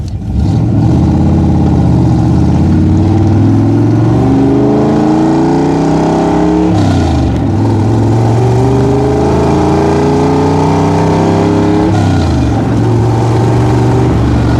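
A loud V8 engine in a 1965 Shelby Cobra 427 replica revs up steadily, drops in pitch at each gear shift around 4,500 RPM, then climbs again, repeating through several shifts close by.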